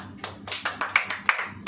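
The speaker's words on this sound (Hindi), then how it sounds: "चलिए ताली बजाएंगे कि नहीं?" An audience at a church sermon claps in slow, steady unison, about eight sharp hand claps in under two seconds with no talk over them.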